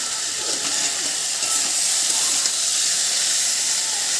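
Spices frying in a pan for a Bengali fish curry of bhola fish with okra, giving a steady, close, continuous sizzling hiss at even loudness throughout, with no talk over it.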